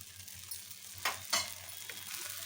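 Wheat flour dosa batter sizzles and fries in oil on a pan, a steady close hiss with a couple of brief louder crackling bursts.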